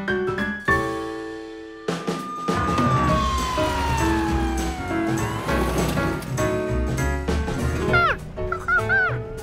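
Cartoon ambulance siren in an animated children's show, a loud wailing tone sweeping up and down over busy music and effects, with a brief meow-like squeal near the end.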